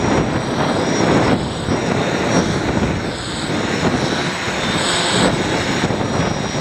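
DJI Mini X drone flying in strong gusty wind, a steady whirring propeller drone with broadband wind buffeting and roar that swells and eases across the clip, close to the microphone, with no talking.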